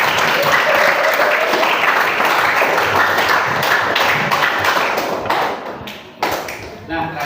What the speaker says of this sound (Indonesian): Baik, tepuk tangan dulu untuk kita semua.